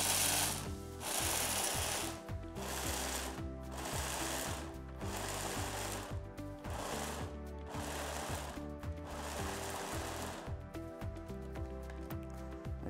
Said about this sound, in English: let's blend it.